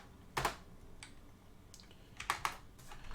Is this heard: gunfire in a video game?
no